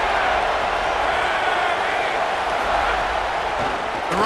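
A stadium crowd roars in the EA Sports College Football 27 video game, a dense, sustained wall of cheering that stays loud throughout, with a broadcast commentator speaking over it.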